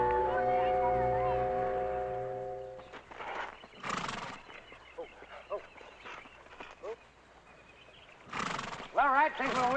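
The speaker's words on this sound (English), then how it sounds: "Beautiful horse." A horse whinnies loudly in the opening seconds of a 1962 drama scene, then hooves clip-clop intermittently while people talk, with another sharp whinny near the end.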